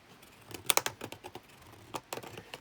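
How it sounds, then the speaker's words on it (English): A deburring tool scrapes and clicks in short irregular bursts as it cleans rough plastic from holes cut in a cheap plastic tote, close and crisp with no talking. "if you have a deburring tool, I'd say now is the time to use it. Go ahead and clean up all that rough plastic"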